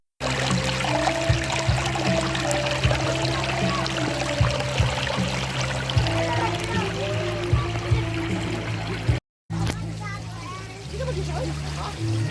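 High water flowing along the Bakas River in Norzagaray, a steady rushing wash with splashes, heard under frequent talk from several people nearby, with a brief cut near the end.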